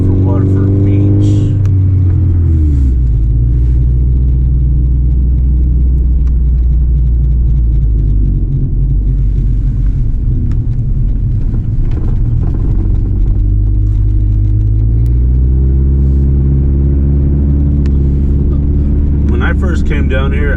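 A Subaru rumbles along a snowy back road toward Waterford Beach, its engine a steady, loud low drone from inside the cabin throughout, with the pitch shifting as it changes speed.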